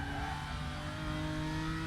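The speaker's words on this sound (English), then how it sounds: "Car just sounds like it's bogging down a lot." A BMW GT4 race car engine in the RaceRoom sim at Sonoma drones steadily and bogs down, a sustained loud buzzing mid-range note with layered harmonics and no talk.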